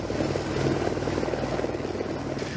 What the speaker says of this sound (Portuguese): A gente observa o momento em que a aeronave do aeromédico do SAMU pousa no campo de futebol do Corpo de Bombeiros aqui em Maringá.